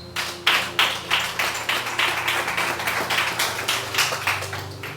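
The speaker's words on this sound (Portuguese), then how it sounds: "aplauda Jesus" Rhythmic clapping from a congregation during a church deliverance service, a steady run of sharp claps over about five seconds with a low hum beneath.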